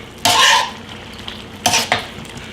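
A thick roux is stirred into a boiling Cabernet wine sauce for chicken with portabella mushrooms, giving two bursts of close, loud scraping and bubbling, a longer one at first and a shorter pair later, separated by a low simmer.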